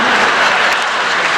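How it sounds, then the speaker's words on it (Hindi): An audience at a Hindi comedy poetry show applauds, a dense, loud and steady wash of many hands clapping together. "हंस लो, ताली बजा लो"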